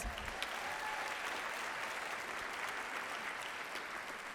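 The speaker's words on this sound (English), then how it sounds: "Another round of applause for Ms. Nance." A crowd claps steadily at a live awards event, a continuous, even wash of applause from many hands at moderate volume, with no pause or talking over it.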